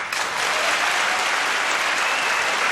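A studio audience at a French television variety show bursts into loud, sustained applause, dense and steady throughout with no voices over it.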